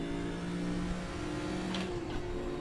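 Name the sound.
race car engine revving in RaceRoom racing video game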